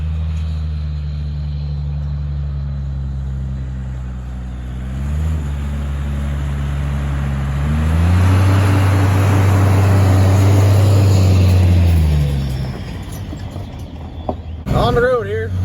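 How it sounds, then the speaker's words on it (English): A pickup truck hauling hay pulls onto the road and shifts up through the gears, the engine drone rising and then settling into a loud steady rumble that briefly peaks, with wind noise from open windows and a short rattle near the end. "On the road here, just hit third gear."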